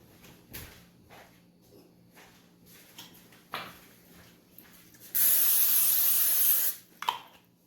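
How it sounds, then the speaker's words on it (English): Quiet handling clatter, then a sharp, steady hiss of cooking spray onto a baking tray lasting over a second, close by, followed by a soft knock. "I'm gonna go ahead and spray my tray"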